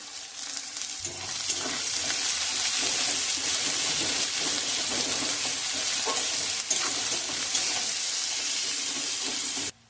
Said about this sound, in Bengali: দুটো মাঝারি সাইজের পেঁয়াজ আমি এইভাবে কেটে নিয়েছি, লাল লাল করে ভেজে নেব।